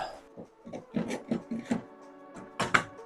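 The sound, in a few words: driving screws into steam bending jig segments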